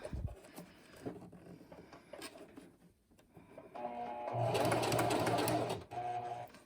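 A sewing machine stitches knife pleats, starting with light, irregular clicks and short runs. Near the end it settles into a louder, steady mechanical whir that lasts about two seconds.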